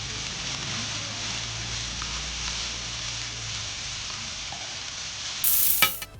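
Chopped onion, capsicum, cabbage and carrot sauté in coconut oil in a hot pan for a Kerala-style dish, giving a steady, close sizzle with stirring scrapes throughout and a brief louder clatter near the end.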